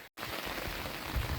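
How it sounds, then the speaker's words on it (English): Heavy rain falls outdoors during a November 2024 Pacific Northwest bomb cyclone, a dense, constant hiss of drops hitting the ground and a puddle, close and loud without pause. "it is raining pretty good out here"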